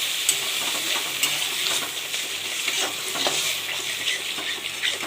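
A spatula scrapes and stirs chili paneer with soy sauce in a hot pan, steady close sizzling and frying with repeated scraping strokes throughout, no voices.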